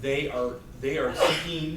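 A single short sneeze bursts out in a school board work session, partly masked by a person speaking over it.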